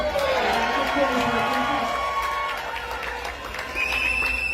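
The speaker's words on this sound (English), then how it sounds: "So can we give them a round of applause?" A crowd applauds and cheers after an election victory for the UNC coalition, steady clapping with scattered whoops filling the room, while a voice carries over the top.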